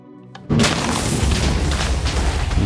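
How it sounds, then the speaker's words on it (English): A huge Minecraft blast from seventeen TNT blocks set as a landmine erupts suddenly after a quiet moment, then rolls on as a loud, sustained rumbling roar with scattered crackles and no voices. "let's try to see an explosion of 17 TNT mine."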